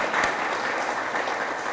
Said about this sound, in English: Let's give all of our educators another round of applause.